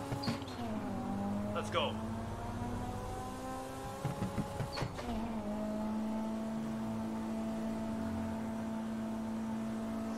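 Engine of an 800 hp widebody 2020 Toyota Supra in GTA, droning steadily with two sharp pitch jumps as it downshifts and revs, then settling into a sustained, fairly loud hum; someone speaks briefly early on.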